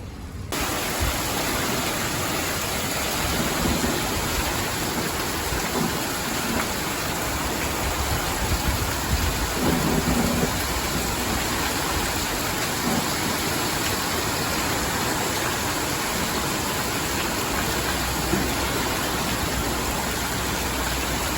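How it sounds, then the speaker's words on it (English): Continuous broadband hiss of steady light rain, heard from shelter behind a barn wall, an unbroken wash of noise throughout with no talking. "It's raining."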